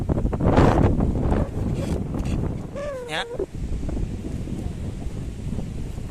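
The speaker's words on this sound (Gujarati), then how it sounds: "આ એટલો પવન લાગે છે ફફડાટી પવન" Strong gusty wind in bad weather buffeting the microphone in loud rumbling bursts, with brief voices and a short whistling tone partway through.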